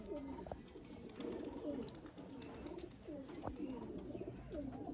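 Pigeons coo in low, repeated throaty phrases, fairly close, with faint background noise.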